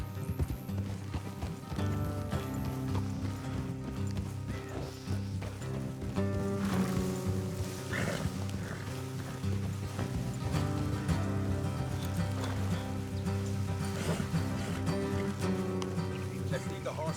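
Horses clip-clop at a steady trot along a road in the Red Dead Redemption 2 game world, the hoofbeats continuous under a dense layer of game music and ambience, with someone talking over them.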